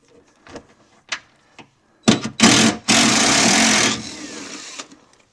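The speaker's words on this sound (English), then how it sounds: "We'll pull this cover off." A ratchet and 3/8 socket turn in quick bursts before a cover is pulled off a Hustler Fastrak zero turn mower, followed by a loud scraping rattle and a sustained buzzing whir; scattered clicks before and after.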